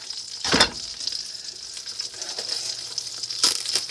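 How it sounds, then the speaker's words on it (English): Diced celery and onions fry in butter with a constant close sizzle, broken by a couple of louder stirring scrapes near the start and end, with no voices. "we're gonna focus on the butter and adding the celery and the onions"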